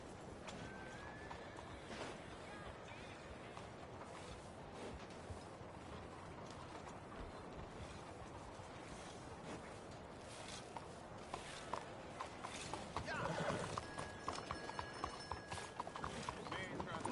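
Horse hooves galloping in the video game Red Dead Redemption 2, a steady quick clip-clop running throughout alongside game ambience and sounds, growing a bit louder and busier near the end.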